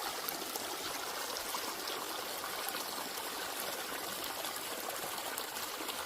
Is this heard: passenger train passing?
no